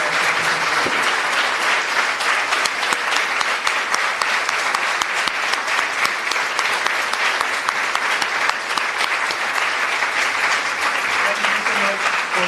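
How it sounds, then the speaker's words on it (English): Warm, sustained audience applause for Canadian-Armenian film director Atom Egoyan at the Golden Apricot 2024 festival meeting, dense clapping filling the room without a break. "maybe a very warm applause for Atom Égoyani"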